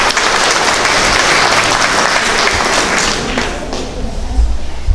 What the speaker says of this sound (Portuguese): Vamos aplaudir aí o assistente.